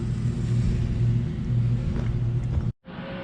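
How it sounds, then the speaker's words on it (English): Steady low motor drone of a lawnmower running nearby, droning loudly and continuously for a few seconds before cutting off abruptly, then a quieter hum resumes. "I really apologize for that lawnmower noise in the back"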